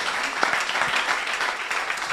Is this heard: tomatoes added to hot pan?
no